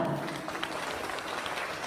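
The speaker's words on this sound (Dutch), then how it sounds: "Uw applaus voor Julian Zwarteveen en Senna." Spectators at an equestrian pony championship applaud the winning rider and pony, a brief burst of steady mid-distance clapping.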